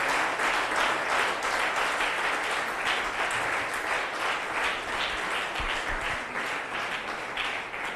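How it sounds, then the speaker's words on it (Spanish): Sustained applause from a large church congregation, dense and steady clapping filling the space without pause, no voices on top. "Démosle un aplauso de alabanza al Todopoderoso"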